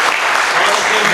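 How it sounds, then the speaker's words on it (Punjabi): Dense, sustained applause from a poetry recital audience fills the whole moment, loud and close with no pauses. "ਜ਼ਰਾ ਹੱਥਾਂ ਨਾਲ ਦਾਦ ਦਿਓ, ਤਾਲੀਆਂ ਵਜਾਓ"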